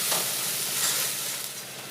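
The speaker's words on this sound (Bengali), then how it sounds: "2 মিনিট ভাজা হয়ে গেছে, আর পেঁয়াজ, আদা, রসুনের কাঁচা গন্ধটাও চলে গেছে" Onion, ginger and garlic fry with turmeric in a pan while ghugni is being cooked. A steady, close sizzling hiss runs throughout, with no voices.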